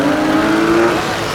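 BMW E36 compact drifting on a wet, swampy track with a quiet exhaust, engine note droning steadily at high revs, loud and close throughout with a slight drop near the end.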